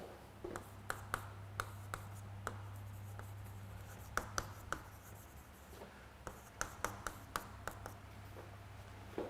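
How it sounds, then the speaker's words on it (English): Chalk or marker tapping and scraping on a classroom board while a math question is written out, a quiet run of sharp irregular taps and short strokes over a steady low hum, with no talking. "Let me write the question on the board."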